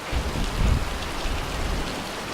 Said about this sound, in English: Flash flooding, rain and thunderstorms, downpours